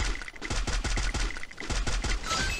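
Rapid bursts of video game gunfire crackle in quick succession, sharp repeated shots with a steady rhythm over a busy background.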